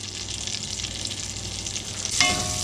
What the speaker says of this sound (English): while we're scraping up some of those bits from the bottom and searing our meat